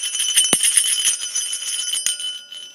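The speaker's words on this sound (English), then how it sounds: "The first bell is a chrome 45 millimeter bell." A small chrome 45 mm bell is struck once with a sharp metallic ding that rings on with a bright shimmering tone, gives a fainter second tap, then decays away close by with no voices.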